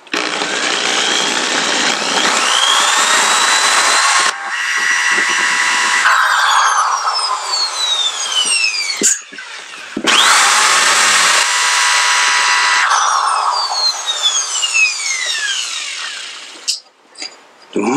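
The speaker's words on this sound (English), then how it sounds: "Time to drill it out." A power drill bores out the hinge nub on a DW 9000 or DW 5000 Drum Workshop Delta II bass drum pedal, whining loudly in two long bursts with a rising and falling pitch and a short pause between them.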